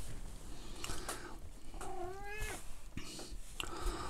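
A large tomcat meows loudly nearby, a drawn-out wavering yowl in the middle of a few shorter cat calls, with handling noises around it.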